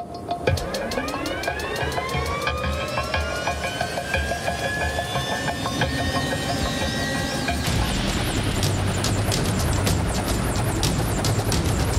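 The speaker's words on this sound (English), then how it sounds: "We're gonna take the helicopter, I'm gonna go up, and we're gonna go drop it on top of the framework" A helicopter lifts off and hovers, its rotor beating loud and close with a whining turbine rising in pitch, then settling into a steady heavy chop with broadband wash.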